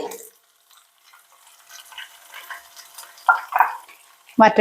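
Shallots and chillies sizzle in hot coconut oil for tempering, a light crackle with a few louder spurts and stirring scrapes, ending in a burst of vigorous frying.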